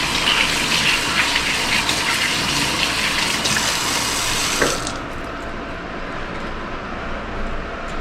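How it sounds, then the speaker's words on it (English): A kitchen tap gushes steadily into a sink as hands are washed after handling sticky garlic. The flow is close and loud, then eases to a softer stream partway through. "Try to wash my hands."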